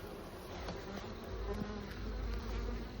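Many honeybees buzz around an open hive in a dense, steady drone close by, a continuous hum that swells slightly louder partway through.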